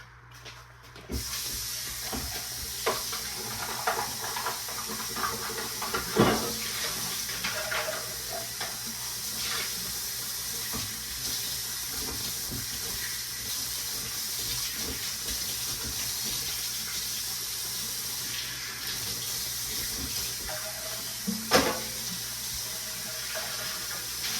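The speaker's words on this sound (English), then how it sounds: "I'm gonna add a little more water." Water runs and splashes from a tap or pouring stream into a pot of ground beef stew, a continuous hissing flow lasting the whole stretch with a few clunks and knocks along the way.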